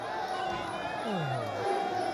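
A packed crowd roars and cheers steadily at a Thai boxing (Muay Thai) match, a dense continuous wall of noise with a commentator's voice rising over it.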